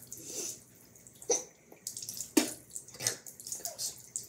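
Tap water splashing at a sink during face washing, soft intermittent splashes and trickles with a few sharper splats, close but fairly quiet, no talking.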